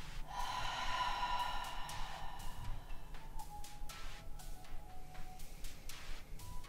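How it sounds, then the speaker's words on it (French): During a morning yoga class, a person breathes in audibly through the nose and then out through the mouth, a close, airy breath cycle. A faint ticking and soft background tones sit under the breathing. "On va prendre une inspiration par le nez et une expire par la bouche."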